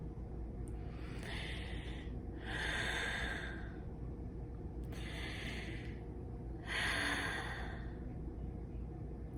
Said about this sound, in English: And let's take a breath or two.